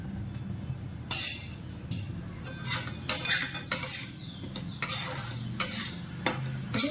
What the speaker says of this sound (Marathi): आता तुपामध्ये चांगलं भाजून घेऊया